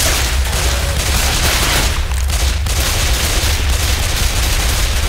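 Dense, loud gunfire from the zombie shooter Left 4 Dead 2, a sustained fusillade of overlapping shots with a deep rumbling low end that runs the whole clip without pause.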